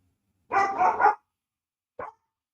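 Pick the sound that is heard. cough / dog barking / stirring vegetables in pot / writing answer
dog barking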